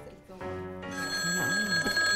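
A telephone rings with a bright, sustained electronic tone that starts partway in and keeps going, while people talk over it.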